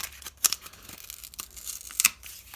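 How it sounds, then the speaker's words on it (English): Corrugated card being ripped by hand, a couple of short, sharp tearing bursts close by with softer fibrous rasps between them. "I'm just going to rip out that bit there."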